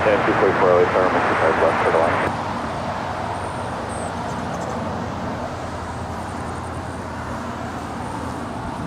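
British Airways airliner moving at LAX airport, a broad jet roar heard from a distance, louder at first and then easing to a steady background drone with faint higher whines.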